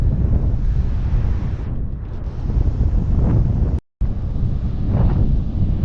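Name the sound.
strong wind by the sea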